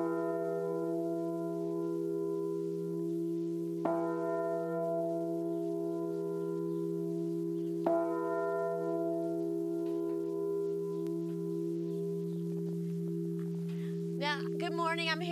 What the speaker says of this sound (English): this is the only traveling replica of the Liberty Bell